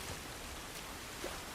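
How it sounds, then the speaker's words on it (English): Rain falls steadily in The Last of Us as a soft, even hiss. It is faint and continuous, with no voices. "This rain ain't gonna do us any good."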